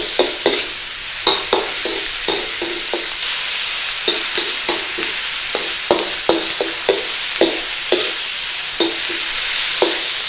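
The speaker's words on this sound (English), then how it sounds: "now we put this in, stir it all in, and start to cook out all this rawness in here" Onions and spices for bhindi masala being stirred in a frying pan, with a steady sizzle under repeated scraping strokes of the spoon, close and fairly loud, with no talking.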